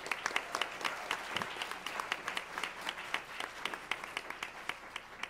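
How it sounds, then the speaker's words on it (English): Audience applause at a conference, a steady mass of hand clapping with sharp individual claps standing out, moderately loud and sustained without talk. "let's give them a round of applause."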